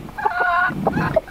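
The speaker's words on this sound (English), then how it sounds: "That's where they sleep and roost and lay their eggs and all that chicken stuff." Hens in a backyard coop, where they roost and lay eggs, cluck and murmur in short throaty calls close by, a few overlapping notes in quick succession with no talking.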